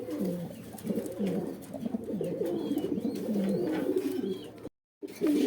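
Pigeons on sale at a market coo in soft, rolling, overlapping calls, close and steady throughout, with a brief dropout near the end.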